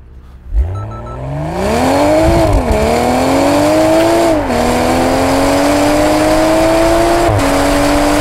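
A BMW Z4 M40i convertible accelerates hard from a standstill in a 0-100 km/h test, its engine revving higher and dropping briefly at each of several quick gear shifts, loud and close.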